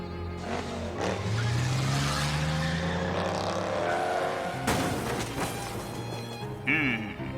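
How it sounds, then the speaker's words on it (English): Car sounds in a video game: a revving engine rises in pitch with tire noise and squeals, fairly loud and continuous, with game effects and a voice mixed in. "Tie the vault to a car and drive down the street."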